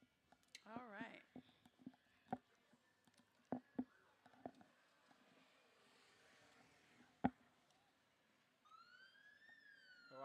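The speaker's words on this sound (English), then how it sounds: "I hear the sirens for our motor team coming up" Police motorcycle sirens wail faintly in the distance at a Fourth of July parade, rising and falling as they draw nearer, with scattered sharp knocks and soft voices closer by.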